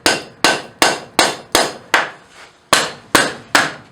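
A wooden hammer striking hot forged half-inch steel over an anvil horn to bend a leaf, nine sharp evenly spaced knocks about half a second apart, each with a brief ringing decay, loud and close with no talking.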